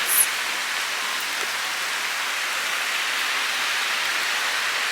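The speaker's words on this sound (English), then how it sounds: "then it started pouring raining." Steady heavy rain pours down in Split, Croatia, in a dense, even hiss that fills the whole clip, with no voices.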